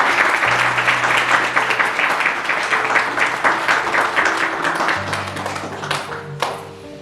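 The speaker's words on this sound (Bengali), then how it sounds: "প্রভু যেন জোরে করতালি দেন" A church congregation claps loudly during a Bengali sermon, producing dense, sustained applause from many hands that fills the room for several seconds with no talking over it.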